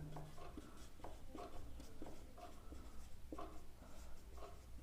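A pen writes on paper during a Class 10 maths lesson, giving soft, repeated scratchy strokes in a faint, steady rhythm against a low background hum.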